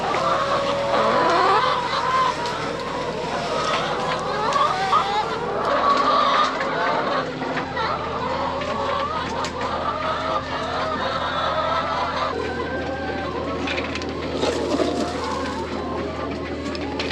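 Farm chickens squabble over a bell pepper, with busy clucks, squawks and cooing bird calls layered close by and a low background rumble running underneath.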